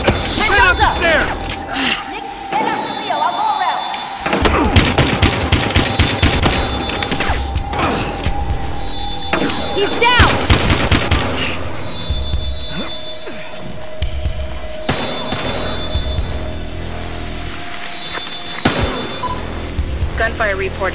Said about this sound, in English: Gunfire reported.